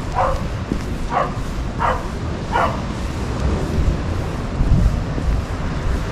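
Dogs bark four times in a steady rhythm, a little way off, as people walk them along a seaside promenade, with strong wind rumbling in the microphone throughout.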